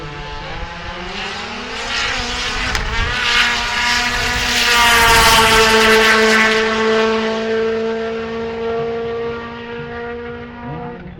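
A front-wheel-drive Plymouth Laser drag car with a 3000 GT engine swap screams past at a drag strip, a loud high-revving whine that swells to a peak and fades as it passes.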